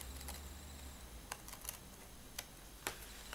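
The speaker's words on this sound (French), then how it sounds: "plier mes rabats et couper le long de la ligne de pliage" Paper being cut along a fold line while making a paper witch's hat: a handful of faint, crisp snips spaced irregularly over a quiet room background, with no talking.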